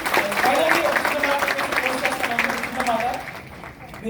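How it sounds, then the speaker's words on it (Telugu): An audience at a product presentation claps in a sustained round of applause that tapers toward the end, with voices talking over the clapping. "వీటి కోసం హ్యాపీగా మీరు క్లాప్ చేయొచ్చు"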